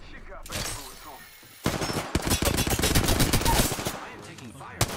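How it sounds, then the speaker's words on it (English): Automatic weapon fire from the battle royale game Apex Legends, loud and close, bursting in rapid stuttering volleys after a brief lull and continuing through most of the stretch. "I am taking fire, friends."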